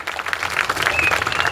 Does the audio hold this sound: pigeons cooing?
no